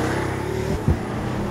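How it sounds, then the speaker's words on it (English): Inside a Pagani Huayra, its 720bhp engine holds a steady hum, then gives one short, sharp throttle blip on a downshift before settling back to an even drone. "You get a lovely blip on the downshift."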